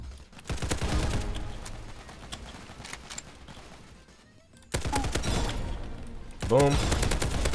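Rapid bursts of gunfire from the Roblox Hypershot video game crackle in dense volleys, pause briefly into a quieter stretch, then resume loud and close, with game effects mixed through the shots.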